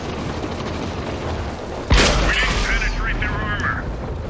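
A single loud tank cannon shot from the VK 30.02D in a tank battle game, a sharp boom with rumbling tail rising over steady engine drone, while a voice talks.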